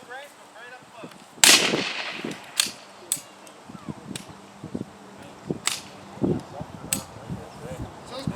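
A .45 caliber ACP submachine gun with a 30-round stick magazine, shown at a WW2 Allied weapons demonstration, fires a series of sharp, loud cracks spaced irregularly across the clip, with faint echoes between shots.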